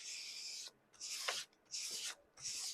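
Fine grit rubs back and forth over a gouache painting in four short, soft rasping strokes with brief pauses between them, close and quiet.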